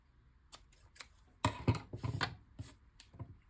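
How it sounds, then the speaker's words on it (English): Scissors trim the edges of clear tape on a small paper-craft piece: a few quiet close snips and crisp rustling clicks in an irregular rhythm, with no talking. "And then trim these even with the edge of your tape"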